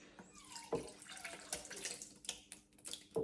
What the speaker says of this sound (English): we're going to try pouring some of our whey through that cheesecloth